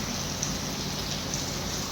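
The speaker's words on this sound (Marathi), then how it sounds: "आणि न थांबणारा पाऊस" Steady, even monsoon rain falls continuously in a Konkan village near Chiplun, a dense hiss of drops with no breaks or gusts.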